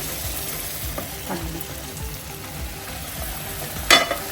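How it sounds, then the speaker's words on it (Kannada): Milk and water come to a boil in a pot for semolina rava prasad, a soft, steady bubbling hiss with a few faint clinks and a brief louder knock near the end. "ನೋಡಿ ನೋಡಿ ಈ ಥರ ಕುದಿಯುತ್ತೆ ಭಯ ಬೀಳ್ಬಿಡಿ ಏನಾಗಲ್ಲ"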